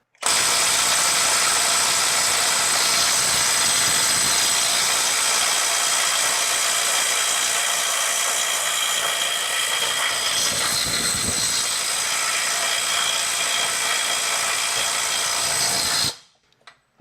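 Makita 18V brushless right angle impact wrench, XLT03/XLT04, on a full battery in mode 3 running in reverse at 400 foot-pounds, a loud continuous rapid hammering buzz held steady for about sixteen seconds, then cut off.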